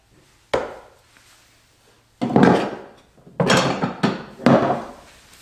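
Several hand saws are set down into a wooden tool box one after another, with a single knock and then a cluster of close wooden clunks and rattles at an uneven pace.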